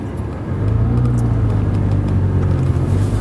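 A manual-transmission car idling, then pulling away as the clutch is engaged, giving a steady low engine rumble that rises slightly and holds close and loud.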